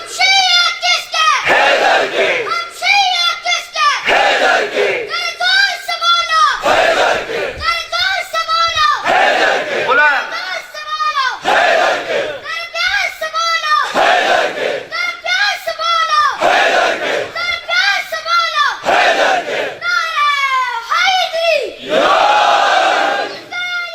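A large congregation at a Muharram majlis chants the Naara-e-Haidari slogan in loud, rhythmic call-and-response waves, a leader's shout answered by a roaring crowd roughly every two seconds, repeated throughout.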